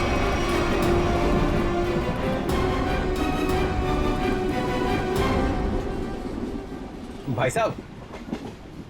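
A moving passenger train rumbles with a steady, loud rail clatter and rhythmic wheel clicks throughout, easing slightly near the end as a voice speaks briefly over it.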